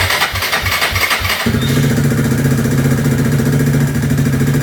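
A Suzuki DR200SE motorcycle engine idles steadily and close by, a low rumbling drone that settles into an even running note after a brief rougher start.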